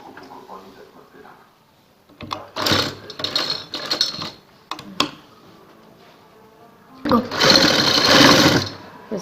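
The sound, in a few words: sewing machine stitching a neckline design on fabric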